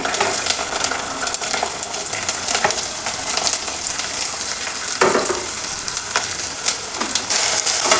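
Garlic, onion and asafoetida sautéing in a pan, a loud, steady sizzle with occasional scraping stirs and crackles throughout, heard close up with no talking.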